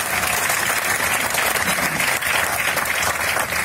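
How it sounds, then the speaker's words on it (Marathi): Audience at a Marathi ghazal evening breaks into sustained, dense applause, loud and steady throughout with no pause. "जेवढ्या टाळ्या तुम्ही आता वाजवल्या त्या दुप्पट टाळ्या वाजवल्या पाहिजे त्या इकबालसाठी"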